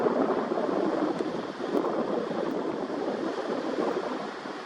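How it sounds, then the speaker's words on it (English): Wind sweeps in off the ocean from the south across a beach, a steady, moderately loud broadband rush buffeting the microphone, with no voices. "So we've got the wind coming in from the ocean right now"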